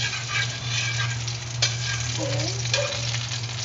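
Garlic frying in hot cooking oil for pork spareribs adobo, a loud, steady, close sizzle that continues throughout, with a low hum underneath and a brief spoken word partway through.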